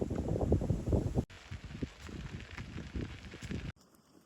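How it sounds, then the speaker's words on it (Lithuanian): Gusty wind buffets the microphone in heavy, rumbling bursts, with an abrupt cut partway through and quieter rushing air afterward. "šiandien vėjas tai yra"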